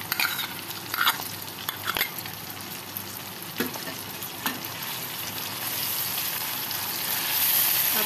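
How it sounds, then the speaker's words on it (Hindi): Yogurt with green chilli paste fries in a pan for black pepper chicken, a dense continuous sizzle that swells louder toward the end, with a few early spoon scrapes and taps, close up and without speech. "अब दही डाल के अच्छी तरह हम भुनाई करते हैं।"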